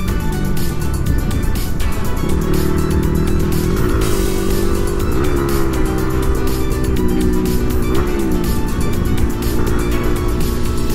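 A stock Yamaha R15 v3 motorcycle at top speed on a night ride, its engine droning loud and steady throughout with rising and falling pitch as it shifts, mixed with heavy wind rush.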